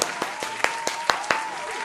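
Hand claps recorded through a pair of 149-baht earphones, about eight sharp hits at a quick, even pace, over a steady background hum.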